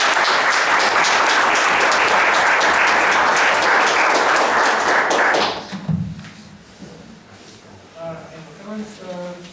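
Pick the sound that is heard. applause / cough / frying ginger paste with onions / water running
applause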